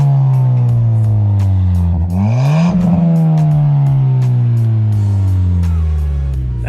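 A Ford Fiesta ST with an MBRP exhaust revs loudly up close, its engine note rising sharply, then falling and holding at a steady drone under the throaty exhaust.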